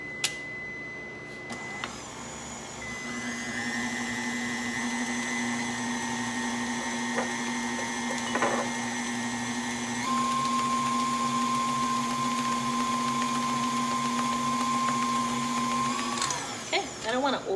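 An electric hand mixer runs in a bowl of Coca Cola cake batter, a loud steady motor whine that shifts pitch as the speed changes, then cuts off at the end.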